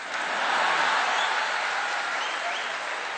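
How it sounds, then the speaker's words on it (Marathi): A crowd applauds at a political speech given by Ramdas Athawale in Bhandara: dense, steady clapping that holds at an even level for about three seconds, with no voices rising above it. "वाजवा टाळ्या वाजवा"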